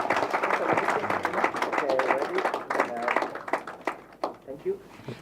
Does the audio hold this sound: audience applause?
yes